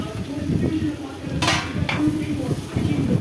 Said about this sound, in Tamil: ஓப்பன் பண்ணிவிட்டு இப்போ இதை கிளறி விடலாம்.